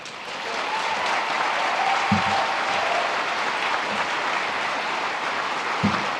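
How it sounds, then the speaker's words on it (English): Audience applause at a chamber of commerce annual meeting, sustained dense clapping from a crowd throughout, with a couple of louder thumps near the start and end. "just give her a round of applause."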